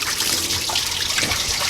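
Water pours and splashes over a 1999–2013 Chevy truck engine to rinse off spilled coolant during a water pump replacement, a brief steady hiss with light trickling.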